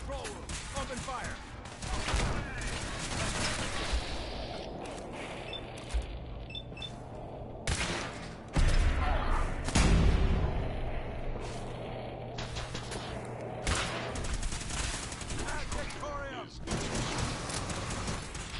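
Gunfire in the video game Fallout 4, a burst of firing during an intruder fight in a control room, with heavy impacts around the middle, mixed with game voices and mechanical clatter throughout.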